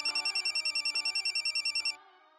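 A telephone rings on and on with a fast regular trill, loud and alone for about two seconds, then cuts off, leaving a faint room tone.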